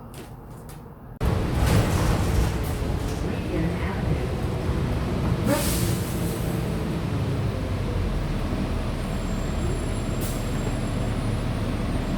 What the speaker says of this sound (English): I'm gonna go get on the bus.